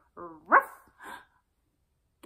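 A dog gives two or three short, close barks with quiet pauses between them, set in a children's song about three little cooks making a dessert.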